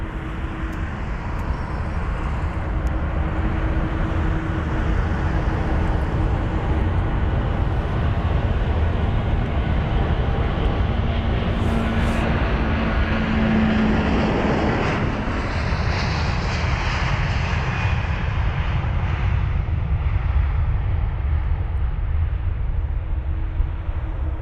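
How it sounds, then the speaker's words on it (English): An 11-year-old Airbus A330 rolling for departure at London Heathrow, a loud, sustained jet engine roar that holds steady throughout with a brief tonal whine in the middle, close and dominant with no voices. "this 11-year-old Airbus A330, on the move already, wasting absolutely no time"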